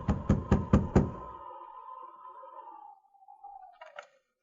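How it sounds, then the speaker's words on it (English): A radio-drama knock on a mission door: four sharp, evenly spaced raps, then a ringing tone that fades, and a faint final tap. "The sergeant drew his revolver and then knocked."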